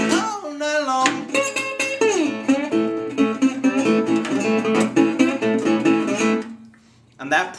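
Acoustic Delta blues guitar riff from a song, played alone up close as a steady run of plucked notes and bends with string slides, ending in a brief pause and a final note.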